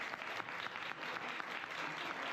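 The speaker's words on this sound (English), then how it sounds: "give a round of applause" A conference audience at a Friday networking club in Wigan claps steadily for a couple of seconds, soft and evenly spread, with no voices.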